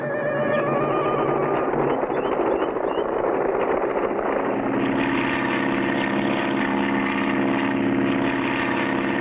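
A cartoon propeller airplane in flight, its engine a continuous droning hum that holds loud and steady, then shifts to a richer, harmonic tone partway through, with no voices over it.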